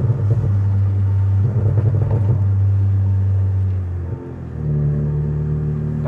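A Kia's engine runs steadily as the driver shifts between gears, its low droning hum dipping and changing pitch with each gear change, close and continuous under faint wind.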